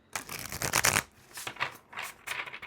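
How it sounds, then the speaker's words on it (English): A deck of oracle cards is riffled and shuffled in a few quick, crisp bursts, close to the listener, with short pauses between them and no talking. "Just one more shuffle here."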